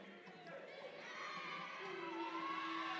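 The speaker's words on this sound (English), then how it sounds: "The Bear crowd making some noise." Home crowd at a college basketball game rising in noise during free throws, a building roar of cheering and shouts that grows louder and steadier over a few seconds.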